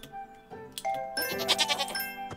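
Goats bleat in the farming video game Harvest Island while being milked, with a few short cartoonish bleats followed by a louder burst of overlapping bleating, clear and isolated, plus small game chimes.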